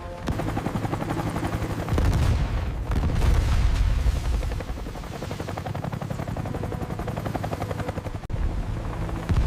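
A helicopter's rotor thuds loud and steady throughout over the sea at night, mixed with heavy booms and rapid bursts of gunfire.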